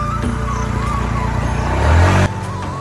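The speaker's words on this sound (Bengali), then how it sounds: "বাইকের আওয়াজ পাচ্ছি পরোটা নিয়ে।" A motorbike engine hums close by, rising briefly as the bike pulls up and then cutting off abruptly.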